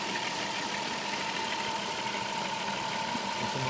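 Chrysler Voyager engine idling smoothly, with its sound deadening material in place: a steady, even hum with a faint constant tone, heard alone at low level throughout.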